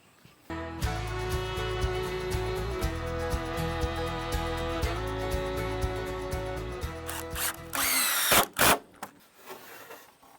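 A power drill drives screws into wooden strapping on a roof rafter, with several loud whirring bursts of varying pitch, then scraping and knocking handling noise near the end.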